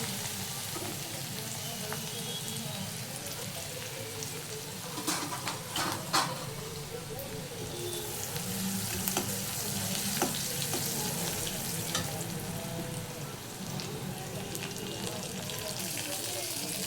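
Crushed cinnamon, clove and garlic frying in a pan, producing a steady low sizzle with occasional stirring scrapes and clinks over a constant background hiss.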